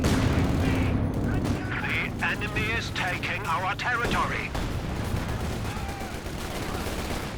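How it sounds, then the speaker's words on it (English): Anti-tank gun shots boom amid battle in Company of Heroes 2, a World War II strategy game, with sharp reports and rumbling impacts under steady commentary talk. "shrugging off a few of these AT gun shots"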